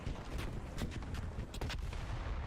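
Loud, dense video game combat noise with several sharp rocket blasts and booms, the strongest bursts clustered near the middle, continuous throughout with no talk.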